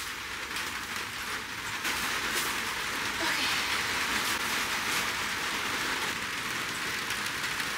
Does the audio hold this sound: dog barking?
no